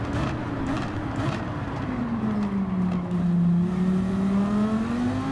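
Race car in the video game Gran Turismo 7 braking into a corner, engine note sweeping down in pitch and rising again, loud and continuous with game racing noise, no talking.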